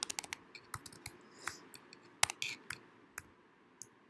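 Rapid clicks of keys typed on a computer keyboard as a number is entered, irregular bursts of taps with a couple of sharper strikes, close and fairly quiet with no talking.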